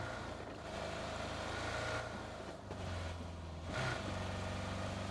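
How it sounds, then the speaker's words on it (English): An in-game car engine in PUBG drones steadily at low pitch, straining with shifting revs throughout, running continuously. "This car sounds like it struggles"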